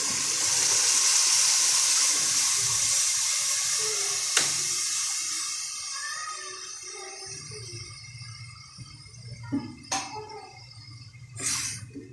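Lassi and gram flour are poured into fried masala, giving a steady liquid pour and wet hiss that fades over several seconds, followed by a few sharp clinks and scrapes of a spoon in the pot.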